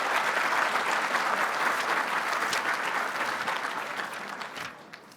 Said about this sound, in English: So can we give our sponsors a big round of applause?